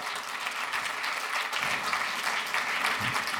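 Audience applause at an Italian political rally speech, dense steady clapping from a large crowd, continuous and fairly loud throughout, with no voice over it.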